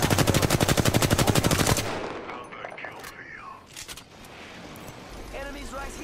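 Rapid automatic gunfire from a video game firefight bursts loudly for about two seconds in a steady rattling stream, then gives way to scattered distant shots, game effects and chatter.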